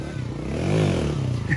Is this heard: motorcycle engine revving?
yes